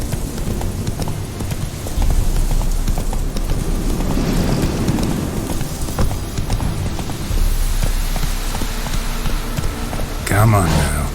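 Geralt's horse Roach gallops in The Witcher 3, a steady rapid clip-clop of hooves carrying on throughout, close and fairly loud, with ambient wind and light rain sounds beneath.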